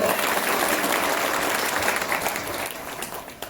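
A crowd at a public gathering breaking into loud, sustained applause, a dense wash of clapping that tapers slightly toward the end.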